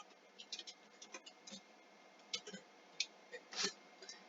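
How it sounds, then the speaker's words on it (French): Soft, irregular clicks and taps of keys being pressed on a computer keyboard during Minecraft play, fairly quiet and close, with uneven pauses between bursts. "j'espère que vous entendez pas trop le bruit de mon clavier"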